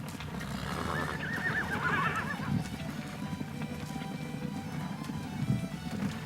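Horses being gathered fast in open country, with a clear whinny in the middle distance and a running, drumming clatter of hooves underneath throughout.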